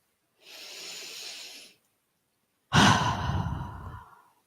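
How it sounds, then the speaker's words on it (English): A slow, deep inhale drawn in gently during a calm tapping exercise, followed after a short pause by a louder, fuller breath that fades out; close and alone with no talk. "Nice deep breath in."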